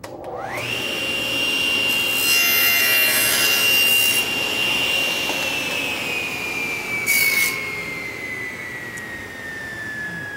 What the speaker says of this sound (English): I want to make 1 cut right through my auxiliary fence